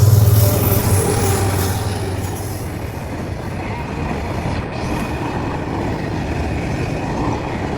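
A goods train passes close by with a loud, continuous rumble of wagons on rails, strongest at the start and then holding steady.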